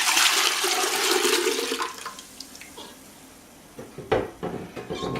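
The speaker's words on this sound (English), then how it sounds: "We'll put the broth back in here." Strained stock broth poured back into a bowl, a loud rushing, splashing stream that tapers off, followed by clinks and knocks of a strainer and kitchenware.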